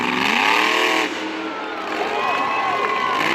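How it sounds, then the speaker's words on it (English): A monster truck with a failing magneto revs its engine hard at a Fredericksburg, Virginia monster truck event. The loud, close, rising and falling engine roar is heard under faint crowd noise. "The engine sounds solid here."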